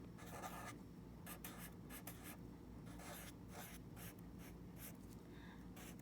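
Handwriting on a classroom board: quiet, close scratchy strokes in short bursts with brief pauses between them, over a low steady room hum.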